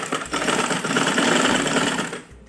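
A sewing machine runs continuously for a couple of seconds while stitching a girl's winter frock, close and loud with a dense mechanical whir, then slows and stops.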